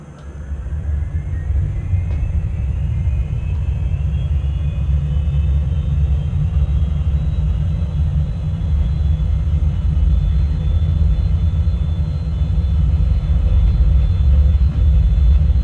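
MD-82 jet airliner in a flight simulator game spooling up for takeoff, a loud constant engine roar and low rumble with a whine rising in pitch over the first seconds, then holding steady throughout.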